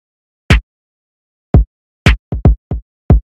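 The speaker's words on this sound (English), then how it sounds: "I layered it with this snare." Six sharp, punchy snare hits in an uneven pattern, each a crisp broadband crack with a low thump, isolated with silence between.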